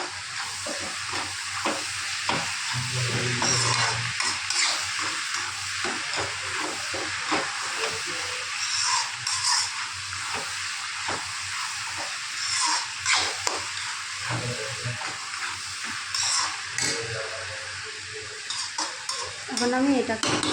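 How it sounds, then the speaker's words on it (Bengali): Chopped tomato frying in oil with chili and turmeric powder, a loud continuous sizzle and steamy hiss broken by repeated scraping of a spoon stirring the pan. "এরপরে আমি দিয়ে দেবো এখানে টমেটো কুচি।"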